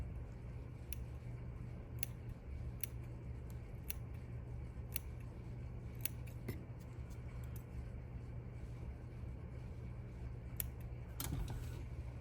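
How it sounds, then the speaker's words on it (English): Scissors snip at mink fur in short, sharp clicks spread irregularly over a steady low hum, some cuts coming in quick pairs, close and crisp, with no one speaking. "I can take my scissors and trim some of that off"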